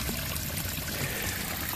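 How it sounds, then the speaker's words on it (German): Water trickles steadily over stacked stones in a garden pond water feature, a continuous close, gentle splashing and bubbling with no voices. "das Wasserspiel mit den übereinander gestapelten Steinen. Das funktioniert jetzt auch."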